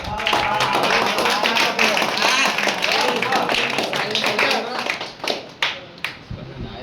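Loud applause from an audience at a felicitation ceremony honoring singers and musicians, dense clapping that thins out into scattered claps toward the end, with voices mixed in.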